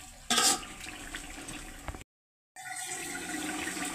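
Spiced water pours into a pot holding two kilograms of soaked rice, giving a close, steady rushing splash that cuts out briefly and then resumes, with no talk.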